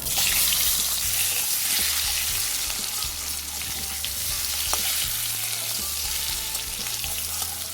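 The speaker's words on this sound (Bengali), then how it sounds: "আলুগুলো আমি সেদ্ধ করে লবণ হলুদ দিয়ে আমি একটু ভেজে নিচ্ছি।" Boiled potatoes seasoned with salt and turmeric fry in a pan for a Bengali egg curry, giving a steady close sizzle with occasional stirring scrapes and no talk throughout.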